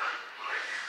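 Monkeys in the trees near Wae Rebo village in Flores give a short burst of rough, bark-like calls that could pass for a dog barking, loud and close for about a second.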